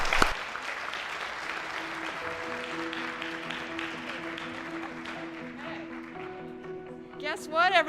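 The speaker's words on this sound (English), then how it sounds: "So please just give you a round of applause" A summit audience gives a round of applause, moderate and steady under a speaking voice, with tonal music rising near the end.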